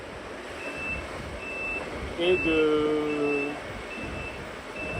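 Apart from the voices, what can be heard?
alarm clock ringing on a sailing boat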